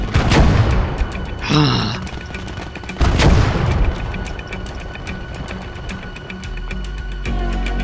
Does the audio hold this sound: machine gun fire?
yes